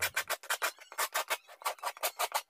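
A hand saw cuts wood for a floating corner shelf in quick, even rasping strokes, about a dozen pushes and pulls in rapid rhythm, close and fairly quiet with no talking.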